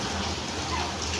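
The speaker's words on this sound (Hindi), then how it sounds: "कितना अच्छा बारिश का पानी।" Steady rain falls in a continuous hiss of drops and splashing water, close and even, with no voices over it.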